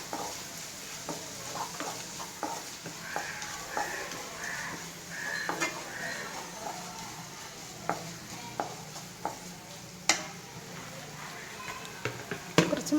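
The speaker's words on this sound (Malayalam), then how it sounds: "കൂടെ തന്നെ ഇഞ്ചി വെളുത്തുള്ളി ചതച്ചതും ചേർത്ത് കൊടുക്കാം." Chilli with crushed ginger and garlic added to onions frying in a pan, a low steady sizzle with scattered sharp clicks and taps of a spoon against the pan, close but quiet throughout.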